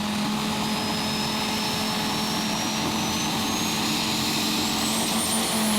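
A turbocharged diesel pulling tractor at a 2014 Eurocup tractor pulling event in Brande, Denmark, holds high revs at the line, a loud constant roaring whine with a rising turbo whistle and no talking.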